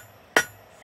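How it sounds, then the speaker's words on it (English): A hammer's flat face strikes a forged steel hairpin S hook on an anvil while flattening it: two sharp, bright, ringing blows, the first decaying briefly and the second landing just under half a second later, over a quiet workshop background. "Alright, flat side of the hammer."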